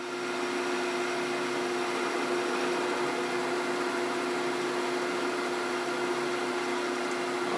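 Lathe cutting threads off a PVC urn insert, a steady whining hum with a sharp tone held throughout, no talk.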